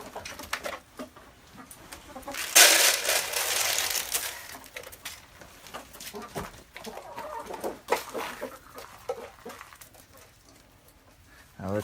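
Chickens cluck near and far at afternoon feeding time on a farm during an ice storm, scattered soft clucks and calls with a louder rustling burst partway through.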